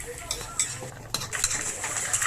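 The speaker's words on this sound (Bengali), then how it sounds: "কড়াইতে দিয়ে দিলাম পাঁচ ফোড়ন আর গোটা জিরে এটাকে আমি খুব ভালো করে ভেজে নেব" Panch phoron and whole cumin fry in a wok for shukto, with light crackling sizzle and scraping stirring clatter of a spoon against the pan, close and steady.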